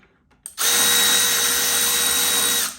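A Makita power tool drives a bolt during cylinder work on a Gilroy Indian PP100, starting after a short quiet moment with one loud, steady, close whir lasting about two seconds before it stops.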